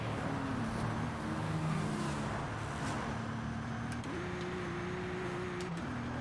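Steady engine drone of a car accelerating on a highway in Forza Horizon, its pitch climbing and jumping up after a gear change, loud and constant.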